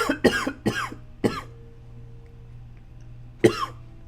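A person coughs several times in a quick burst, pauses, then coughs once more; close and clear over a quiet hum.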